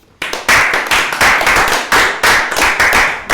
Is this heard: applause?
yes